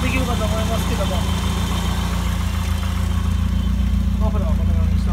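A Westfield sports car idles steadily with a low, continuous engine rumble, with talking over it throughout.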